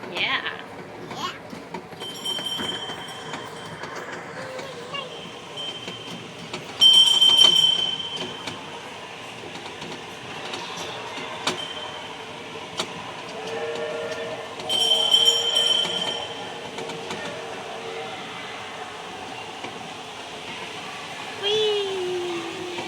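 A ride-on train in a shopping mall rolls along its track with a low rumble and rattle, with bursts of ringing bells or chimes, while children chatter and shout nearby.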